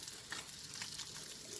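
Fish frying in a pan on a stove, after being marinated with turmeric, salt, cornflour and rice powder, gives a steady close sizzle with faint crackles and no talk.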